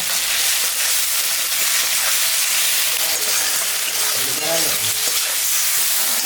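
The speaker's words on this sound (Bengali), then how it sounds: "আলুটা ভাজা ভাজা হয়ে গেছে। এখন আমি লবণ হলুদ দিয়ে দিলাম।" Potatoes frying with salt and turmeric in a pan while cooking a katla fish curry, a loud, close, continuous sizzle with scraping stirs throughout and no talking.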